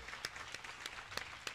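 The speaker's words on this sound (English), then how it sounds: "Round of applause." Faint, sparse handclapping from a small audience at an entrepreneur panel, a handful of scattered claps spread unevenly over a quiet background.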